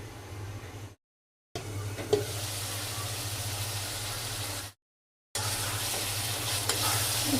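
Tomatoes sautéing in a pan for a fish curry, with a loud continuous sizzle and scraping stirs, cut by two short silent gaps, no speech.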